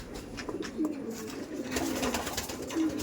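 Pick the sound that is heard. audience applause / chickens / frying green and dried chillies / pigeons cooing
pigeons cooing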